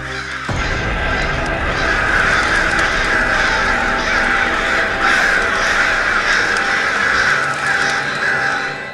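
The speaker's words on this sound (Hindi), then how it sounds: "कुछ दिनों से ये काले कौवे कुछ अजीब ही घूमने लगे।" Several crows caw loudly and repeatedly in an ongoing chorus in a scene from the Veer Hanuman mythological drama, with harsh calls overlapping throughout.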